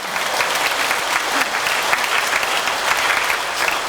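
A church congregation at a Catholic retreat gathering bursts into steady, dense applause that fills the room at an even level from start to finish.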